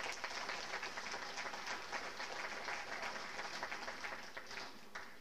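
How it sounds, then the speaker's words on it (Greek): Audience applause fills a dinner dance hall, a dense, steady wash of many hands clapping at once that holds at an even level throughout. "ένα χειροκρότημα."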